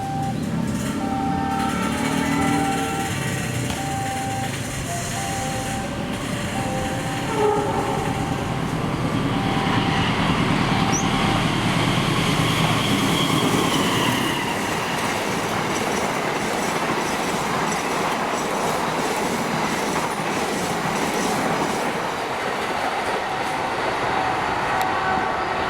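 Indonesian passenger train, including the luxury Argo Laut service, rolling past on the railway with a loud, sustained rumble of wheels and carriages, a brief squeal and clatter over the rails throughout, no talking.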